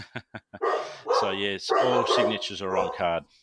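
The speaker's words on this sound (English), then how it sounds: "So pardon my dogs" A few short, sharp dog barks sound at the start, followed by someone talking steadily, with the barking settling under his voice.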